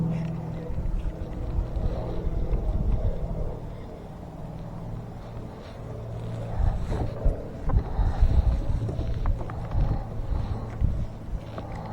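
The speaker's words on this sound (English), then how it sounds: "Wind is blowing me." Wind buffets the microphone outdoors on a Colorado lake during fall bass fishing from a kayak, a low, gusty rumble that swells and eases throughout with no other clear sounds.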